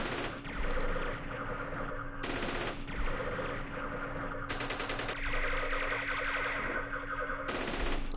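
Sustained machine-gun fire from a Vietnam War strategy game set at the Battle of Ia Drang, with loud, dense bursts that repeat in several waves and no voices over them.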